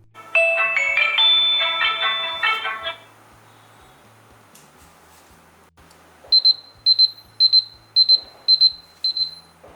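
A smartphone plays a bright melodic alarm tone that cuts off suddenly when the phone is flipped face down to mute it, and a faint pause follows. A series of short, evenly spaced beeps comes after.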